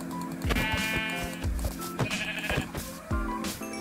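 Sheep bleating in the video game Minecraft, several short repeated bleats close by over a steady background of game music, each call a brief nasal burst.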